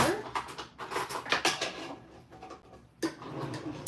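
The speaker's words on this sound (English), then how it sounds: "let me get a teaspoon out of here" Light metallic clinks and rattles of cutlery as a teaspoon is pulled from a kitchen drawer, close and fairly quiet, with a person talking over much of it.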